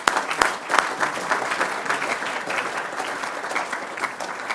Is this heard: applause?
yes